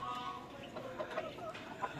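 Soft, low clucking from a rooster, a few short murmured calls close by over a faint background hum.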